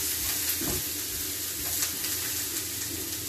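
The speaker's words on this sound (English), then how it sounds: "now we're just cooking off steam right now" Aubergine, mushrooms and cabbage sizzle and steam in a hot pan with thyme, a steady dense crackle with soft bursts of hiss, continuous and fairly close with no talking.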